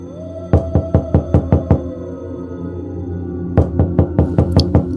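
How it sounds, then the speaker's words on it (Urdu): A fist pounds on the wooden door of a house in two quick bursts of about six and eight sharp, loud knocks, with a short pause between them over a low background hum. "اس گھر کا دروازہ پیٹا"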